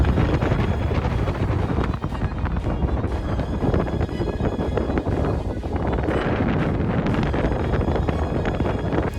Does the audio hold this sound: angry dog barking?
no